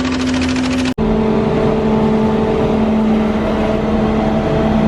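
A lorry moves forward on a farm during animal feed making with a mobile mill and mix unit. Its engine makes a steady, loud drone that continues after a sharp break near the start.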